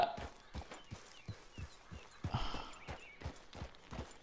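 A horse's hooves clip-clop at a steady walking rhythm in Red Dead Redemption 2, a regular series of soft, close thuds with a slight rustle around the middle.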